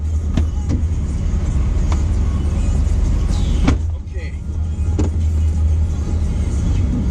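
A 2016 Ram 2500 pickup with a Cummins diesel engine drives along, its low steady engine drone and road rumble continuous under the cabin, with a couple of sharp clicks and a brief dip partway through.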